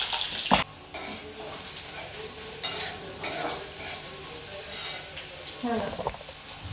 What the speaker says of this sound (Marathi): अशा प्रकारे हे बटाटे चांगले तुपामध्ये तळती आहे